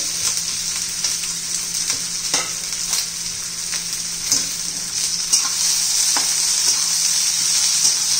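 Chopped capsicum and onion frying in a pan, a continuous close sizzle broken by occasional stirring scrapes and clinks, growing slightly louder toward the end.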